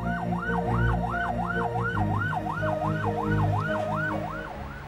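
An ambulance siren wails in a steady, repeating rise and fall, loud and close, with a low rumble of road traffic underneath.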